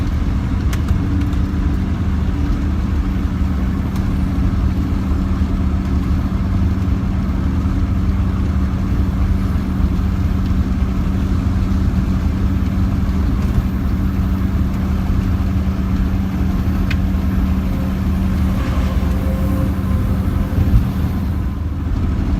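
Steady, close engine and road drone from inside a Mercedes Sprinter van driving along in limp mode, a continuous low rumble that holds for over twenty seconds with no talk.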